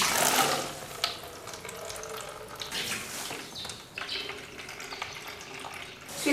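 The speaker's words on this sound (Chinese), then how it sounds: "这个香椿芽子多洗几遍，洗干净那个" Chinese toon sprouts are rinsed by hand in water, with splashing and swishing over steadily running water and a few sharper sloshes as the shoots are moved about, with no voices.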